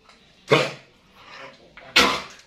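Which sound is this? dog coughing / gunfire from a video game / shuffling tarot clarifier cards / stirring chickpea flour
dog coughing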